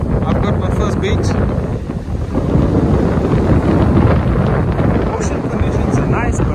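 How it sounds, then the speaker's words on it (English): Strong wind blows across an ocean beach at Durban in the early morning, roaring and buffeting the microphone loudly and continuously, with surf rumbling underneath. "we've got a very windy morning here"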